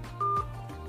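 A single short telephone dialing tone from a Poco X3 NFC phone during a test call, one clear beep lasting a fraction of a second over a low background hum.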